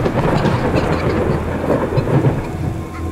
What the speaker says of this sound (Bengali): হঠাৎ একটা বিকট বাজ পড়ার শব্দ তার শীষের শব্দকে সাময়িক স্তব্ধ করে